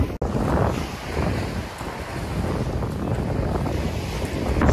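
Surf washing onto a freezing winter beach as the tide comes in, with steady wind buffeting the microphone into a constant broad roar and no voices.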